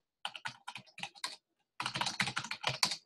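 Commands are typed on a computer keyboard in two quick bursts of crisp keystrokes, a short pause between them, close and clear in a quiet room.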